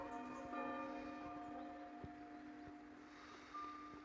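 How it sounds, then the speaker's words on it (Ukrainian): Church bells ring in the morning, heard distant and faint with steady sustained tones and soft repeated strikes against quiet outdoor air. "Чуєте в церкві дзвони"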